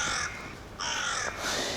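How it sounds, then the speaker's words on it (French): A crow cawing outdoors, three harsh, drawn-out calls spaced across a couple of seconds, fairly close and clear over a low background hum. "Même le corbeau, il me dit de fermer ma gueule."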